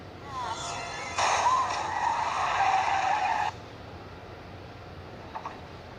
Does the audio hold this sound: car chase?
yes